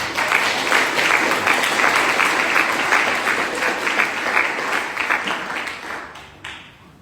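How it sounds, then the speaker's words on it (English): Sustained applause from an awards ceremony audience honoring school leaders, dense steady clapping throughout that thins and fades in the final second. "Applause for our school leaders."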